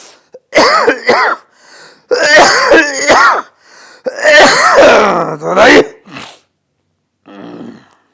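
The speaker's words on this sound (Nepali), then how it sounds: "यसले खोक्ले है" A person coughs and clears their throat repeatedly in loud, harsh bursts close by, ending with a fainter wheezy breath.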